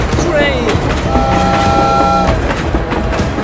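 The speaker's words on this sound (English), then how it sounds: "Oh my god, train!" Train rushing past with rolling rumble and a horn-like tonal blast mid-way, loud and close, mixed with children's voices shouting over it.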